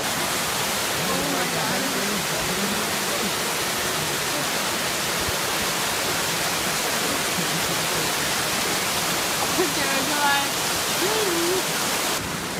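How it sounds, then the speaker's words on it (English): Waterfall on a hiking trail, a steady broadband rush of falling water that stays loud and constant throughout, with faint distant voices and a brief murmur of someone speaking beneath it. "So yeah, that's the falls."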